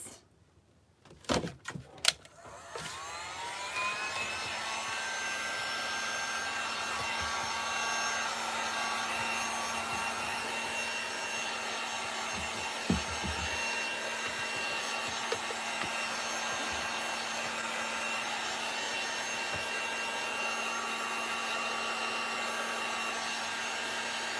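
A hair dryer runs steadily, drying a handmade Easter reverse-canvas sign; a few knocks and handling clatters come first, then the even blowing whir continues alone with a faint bump midway.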